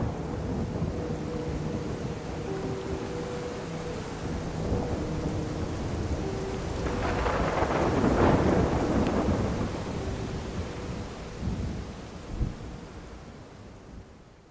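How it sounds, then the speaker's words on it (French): Heavy rain pours steadily while thunder rumbles and swells in the middle, with gusty wind noise throughout. "une tempête d'eau et d'un vent qui menaçait de déraciner tous les arbres"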